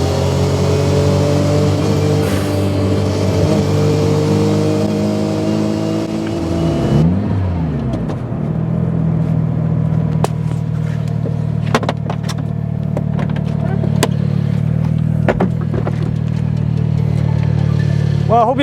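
1992 Mazda Autozam AZ-1 kei car engine while driving, a loud steady mid-pitched drone that drops after a gear change and then holds a steady cruising hum with road noise and small clicks.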